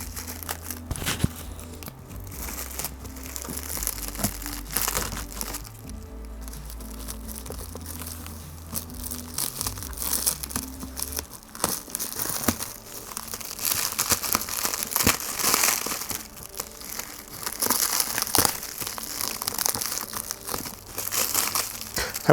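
Packaging for car tension rods being unboxed, with close, busy crinkling, crumpling and tearing of plastic and paper throughout, under a low hum.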